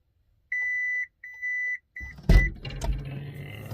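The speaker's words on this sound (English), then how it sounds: "Let me beep, beep the door open." A car remote key fob sounds three sharp electronic beeps as the door unlocks, followed by a clunk and some handling noise nearby.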